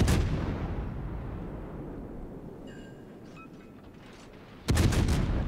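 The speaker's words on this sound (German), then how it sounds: "Alle 5 Sekunden kommen da die Schüsse halt raus." Two heavy booming blasts of warship guns in World of Warships, one at the start and one near the end, with a rumbling roar between them and some faint tonal chirps in the middle.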